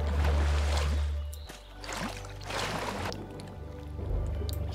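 A character swimming in water in the video game Lego Worlds, with soft sloshing and splashing over a low rumbling hum, rising and falling in a few gentle surges.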